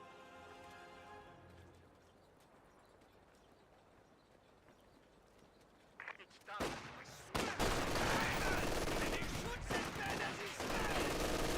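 An MG42 machine gun fires in Company of Heroes 2 battle, a dense rattling burst of gunfire that erupts suddenly and stays loud and continuous after a quieter lead-in.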